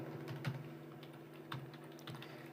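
Someone types a search on a computer keyboard, making a few soft, close keystroke clicks in a loose, uneven rhythm over a low steady hum, with no talking.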